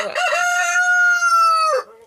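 A rooster crows once, loud and close, near a greenhouse, in a long drawn-out call that holds steady before dropping off at the end.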